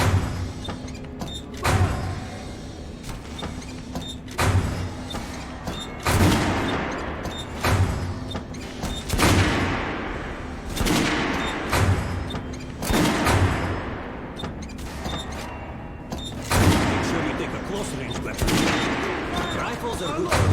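Repeated gunfire on a shooting range in the video game Metro Last Light, loud sharp shots in bursts and single cracks spread over the stretch, with mechanical reload clacks and echoing tails between them.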